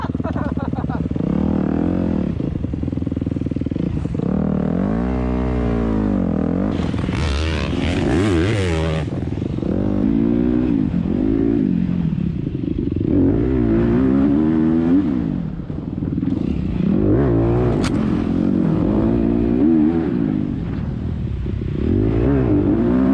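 A 110cc pit bike ridden on dirt trails in the hills, its small engine buzzing and revving continuously up and down through gear changes, loud and close throughout, with no voices heard.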